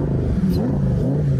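A Lamborghini engine fires up from the start button with a brief, loud, growling burst of revs heard up close.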